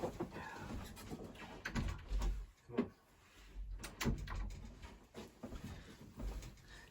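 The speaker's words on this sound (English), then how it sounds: "She's scratching on the door." Cat scratching at a door indoors, a series of faint irregular scrapes and soft bumps, quiet and close.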